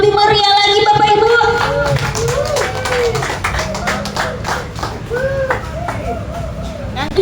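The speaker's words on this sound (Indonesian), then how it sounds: "Kita beri tepuk tangan yang lebih meriah lagi Bapak Ibu." An audience at a prize draw claps for the winner of a Daihatsu car, with brisk rhythmic clapping under music and an announcer's voice talking over it throughout.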